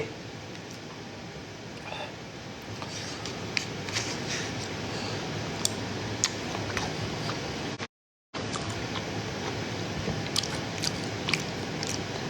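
Eating fish head soup and seafood with a fermented soybean dipping sauce: close, steady chewing and biting with small crunches, continuing for several seconds with a brief cut of silence partway through.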